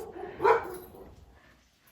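A dog at home gives one sharp bark at close range, followed by faint, trailing yips and a little rustling.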